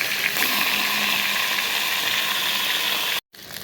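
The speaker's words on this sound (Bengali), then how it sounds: "এই তেলের মধ্যে দিয়ে দিচ্ছি আমি গোটা গোটা মুড়োই ভাজবো" Whole fish heads, left unbroken, frying in hot oil for a lentil dish: a steady, dense sizzle runs close and loud for about three seconds, then drops out abruptly before resuming.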